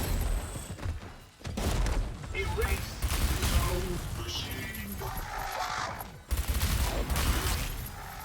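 Rapid SMG fire in the Arcadegeddon video game, sustained bursts across most of the clip with a brief pause, loud and close, mixed with clattering impacts and game sounds.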